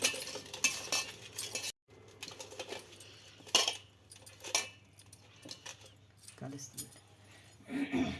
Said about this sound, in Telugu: ఇలా 4 పక్కలైతే కలుపుకోండి, పసుపు కలుపుతుంది.